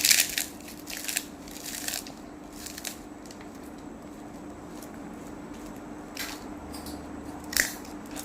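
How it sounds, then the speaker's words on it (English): Potato crisps are crushed and mashed by hand while making masala muri. Several sharp, crackling crunches come in short bursts, with quieter rustling between them and no talking. "Now we are going to take some potato crisps, mash them up."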